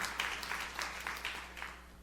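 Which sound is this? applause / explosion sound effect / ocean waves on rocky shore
applause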